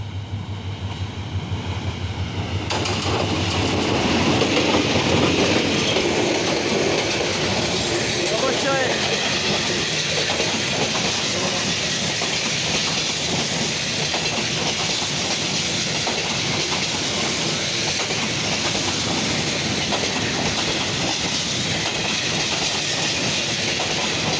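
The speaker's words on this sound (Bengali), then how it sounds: "অবশ্যই আপনারা ট্রেনটা উপভোগ করুন" A train rolls past close by with a loud, steady rumble and rhythmic clickety-clack of wheels on rails, while a person talks over it.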